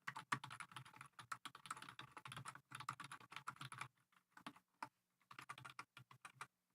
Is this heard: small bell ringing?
no